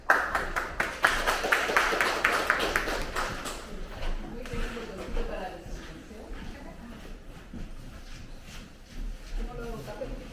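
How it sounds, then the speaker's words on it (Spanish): Audience applause at an exhibition talk, a short burst of quick, close claps from a small crowd that fades after a few seconds into murmuring and talk. "Recibamos antes con un cariñoso aplauso."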